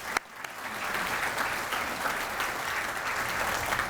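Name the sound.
audience round of applause at breakfast event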